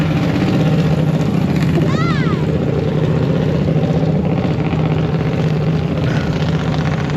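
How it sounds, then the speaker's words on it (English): Generators run continuously beside a trailer at a drag strip, one feeding a high-pressure air compressor, a loud steady engine drone with a short squeak partway through and no clear talk. "over here I got my generators going"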